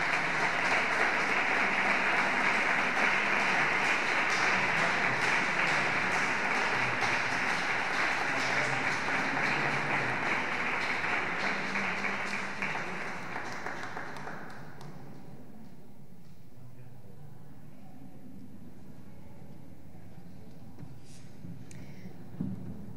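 Warm, sustained crowd applause at a tribute event for retired teachers, loud and even for about fourteen seconds, then fading quickly into a quiet hall with a few stray claps.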